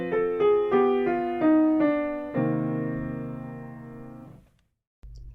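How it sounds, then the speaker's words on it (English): Several short chords on a keyboard instrument move in quick succession through a minor 2-5-1 progression, then a final chord sustains and slowly decays into silence. "A minor 2-5-1 sounds like this."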